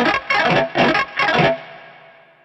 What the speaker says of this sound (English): If I strum across the strings, you will actually hear that it has a sweeping sound, but with the Runbarr, it's cleaner.